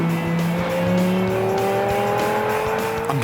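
A sports car on a road in Fife roars loudly and steadily, its engine tone climbing smoothly through the revs, with a squealing edge of tires in the mix and no talking.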